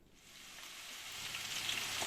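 Starch-coated eggplant pieces hitting hot oil and frying, a bright steady sizzle that swells louder over two seconds with no talk.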